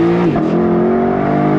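A 2024 Lexus LC500 V8 on throttle gives a loud, close exhaust roar, pitch dipping briefly as a gear changes, then holding a steady rich drone to the end.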